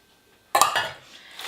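Stirring onions, carrots and pumpkin in a pot for a chicken stew: a short scraping clatter of a utensil against the pot, sudden and fairly close, then a softer trailing rustle.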